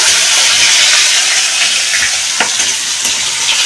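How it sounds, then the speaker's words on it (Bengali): Rohu fish sizzles steadily in hot oil as a large piece is fried and turned in the pan, a dense continuous crackle with a few sharper pops, loud and close, with no voices. "মাছটা আমি উল্টে দিচ্ছি, একটু ভাজা হয়ে গেছে"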